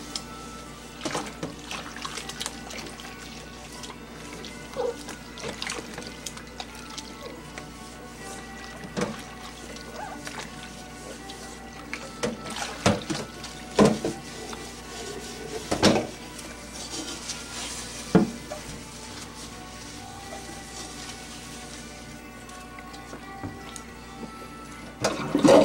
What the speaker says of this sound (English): And last but not least, our fry pan. Give that a good cleaning.